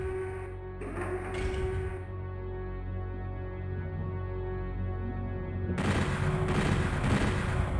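Gunfire in Doom 64, rapid repeated shots with a mechanical, buzzing texture, in bursts at the start and again near the end over a steady droning game background.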